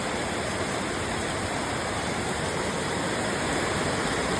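Heavy monsoon rain pours steadily in Palakkad, a dense, even roar of water close by that holds unbroken from start to finish with no voices.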